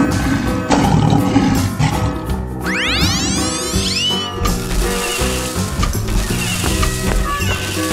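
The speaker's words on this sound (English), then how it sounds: "Lion." Cartoon-style lion roar, a loud sustained growling roar over busy background music and swooping effects, lasting several seconds in the middle.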